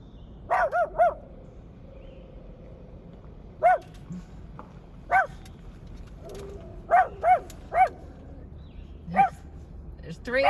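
A dog gives a series of short, sharp barks and yips in scattered bursts, some in quick pairs, moderately close and standing out over a quiet background.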